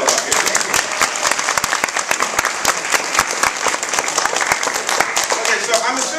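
An audience at a comic convention panel with Archie creators claps loudly and steadily, a dense run of sharp individual claps close by that carries on for several seconds.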